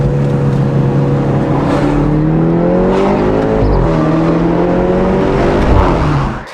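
A BMW G30 530i with the B48 Valvetronic engine and valved sport exhaust runs loud and close, holding a steady rev before rising into a brief surge of acceleration, then settling again.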